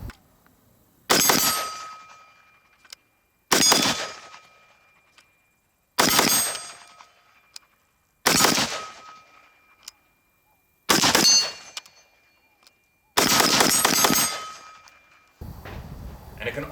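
An MR223A3 rifle, a clone of the HK416, fired rapidly outdoors in six or seven sharp metallic bursts spaced about two seconds apart, each trailing off in ringing echo, with a duller rumble at the end.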